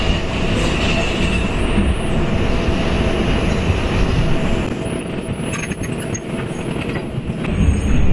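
A New York subway 2 train rolls slowly, giving a continuous loud rumble with wheel rattle and faint squeals that swell slightly toward the end.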